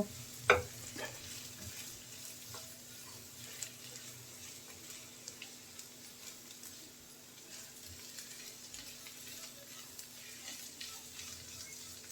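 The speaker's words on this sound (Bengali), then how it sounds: "গোলমরিচের গুঁড়া দেওয়ার কারণে টেস্টটা খুবই ভালো আসে না দিতে চাইলে বাদ দেওয়া যাবে নেড়ে চেড়ে মিলিয়ে নেব" Fried pointed gourd with egg and black pepper hisses quietly in a pan, a faint, steady sizzle with a brief sharp clink near the start and scattered soft stirring scrapes.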